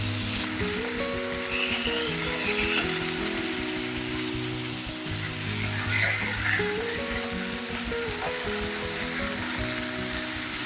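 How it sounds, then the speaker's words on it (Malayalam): Fish shallow frying in a pan sizzles continuously and loudly, a steady crackling hiss with occasional stirring, no talking over it. "ജസ്റ്റ് ഒന്ന് തിരിച്ചു മറിച്ചിട്ടൊന്ന് ഷാലോ ഫ്രൈ ചെയ്തെടുത്താൽ മതി"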